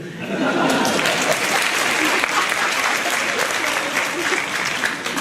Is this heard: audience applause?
yes